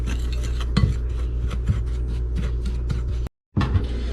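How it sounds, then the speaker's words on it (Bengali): A smoked paprika spice rub for brisket being mixed in a bowl, with a steady scraping and clinking of a utensil against the bowl, a few sharper knocks, and a brief gap near the end. "এটাকে আমি এখন সুন্দর করে মিক্স করে নেব রাবিংয়ের জন্য"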